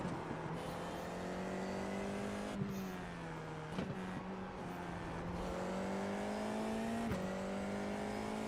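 An IndyCar race car engine in a racing game at Spa screams steadily at high revs, its pitch climbing through the gears with several quick upshifts and a few sharp clicks, loud and continuous with no talk.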